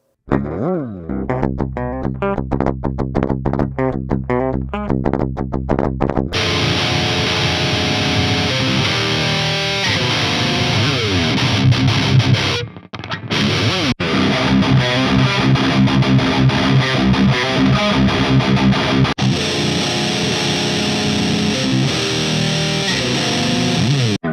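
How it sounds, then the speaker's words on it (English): Electric guitar playing, first as a thin, dry, unamplified clean DI tone, then switching through several fuller distorted amp sounds, loud and continuous. "First you'll hear the clean DI sound, and then we'll audition some different tones"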